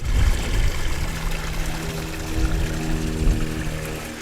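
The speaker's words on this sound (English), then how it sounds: "We're following this stream of water on our right side here." A stream of water flows alongside a trail in the desert near Shoshone, California, running toward a pond, heard as a steady close pouring trickle without any talk.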